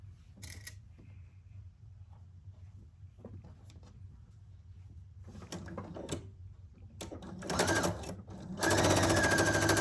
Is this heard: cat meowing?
no